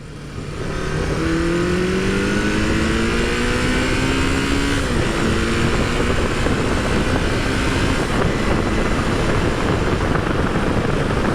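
A Honda CB550 motorcycle engine downshifting through the gears: a loud, close engine whose whine climbs in pitch, breaks off sharply at the shift, then settles into a lower steady drone. No voices.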